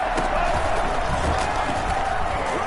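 Football stadium crowd at a Chiefs game cheering as it rises before a two-point try, a dense, loud, continuous roar with no clear breaks, filling the whole span.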